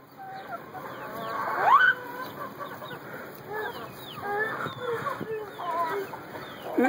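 Chickens cluck and squawk close by in a busy farmyard, with one louder rooster-like call standing out among scattered bird noises.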